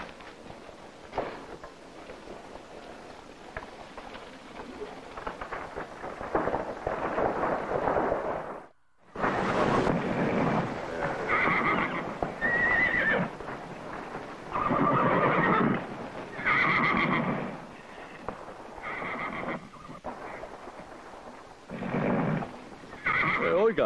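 Horses at pasture neigh and whinny repeatedly, loud and close, amid hoof clip-clops in a Western drama setting, with low rumbles of thunder in the background.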